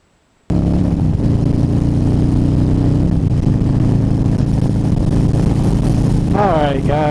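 Harley-Davidson Dyna Wide Glide motorcycle rumbling along the road on newly upgraded shocks, a steady low engine drone starting abruptly and continuing throughout, with a brief rising voice-like sound near the end.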